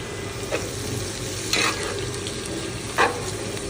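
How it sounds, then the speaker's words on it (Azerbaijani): Carrots frying with onions for Uzbek plov, a steady close sizzle with a few distinct stirring scrapes spaced about a second and a half apart, no voices. "Və markovu da qızardırıq."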